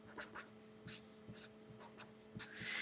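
Marker or pen strokes writing out a formula for solving an interest rate from compounding periods, quick scratchy bursts in an irregular rhythm over a quiet room hum.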